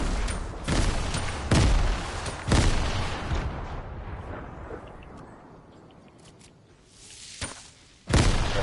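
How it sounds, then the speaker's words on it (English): Grenade blasts in a Fortnite match, a heavy boom near the start followed by several loud, ragged explosions with rumbling decay, a quieter stretch, then another sharp burst at the end. "They're throwing grenades and hit."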